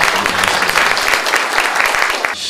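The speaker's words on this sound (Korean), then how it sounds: "우리 의원님들께도 우리 감사의 박수 한번 보내주시면 감사하겠습니다" Applause of thanks for council members at a ceremony for the opening of an art museum honouring the late painter Lee Kang-ha: a loud, dense wash of clapping from a crowd, steady throughout and thinning near the end.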